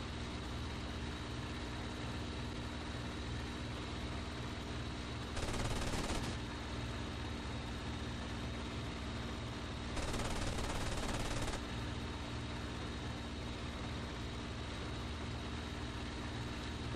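Aircraft machine guns in the IL-2 1946 flight combat game fire two short bursts, one around a second long and a longer one later. Each burst rattles rapidly over a constant loud droning aircraft engine, with no speech.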